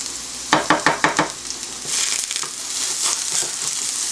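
Onions tossed into a hot pan give a burst of sharp crackling pops, then settle into a steady, close sizzle as they fry.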